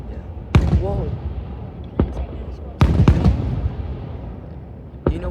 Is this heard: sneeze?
no